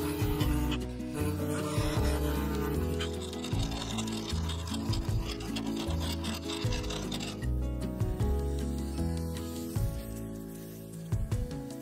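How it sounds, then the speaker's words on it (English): Continuous rhythmic rubbing of sandpaper against the inside of a sapele wood vase, close up, with repeated back-and-forth strokes and no talking. "I sanded just the inside from 80 to 600 grit, continuing up to 3000 grit on the resin."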